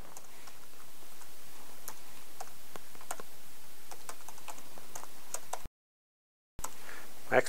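Someone types a card number on a computer keyboard, with sparse, light key clicks tapping irregularly over a quiet background, briefly cut to silence before a couple more taps.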